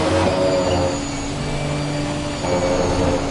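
Ginetta GT4 race car engine in the ACC racing game, a steady droning engine note that dips slightly and then rises again under load, loud and continuous, with no talking.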